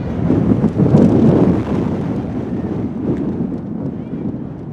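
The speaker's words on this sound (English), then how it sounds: "after that last wind gust" A strong wind gust sweeps across an outdoor softball field during a high school game, roaring and buffeting the microphone in a loud rush that eases off over a few seconds.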